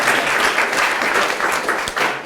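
An audience at a youth speech competition claps steadily and fairly loudly for a young competitor, a continuous even patter of many hands that carries on without a break.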